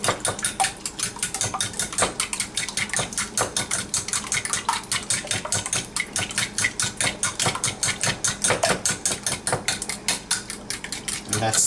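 Cooked rice beaten in a pot in a circular motion: rapid, regular rhythmic knocks of a utensil against the pot, close and continuous, with faint background hum.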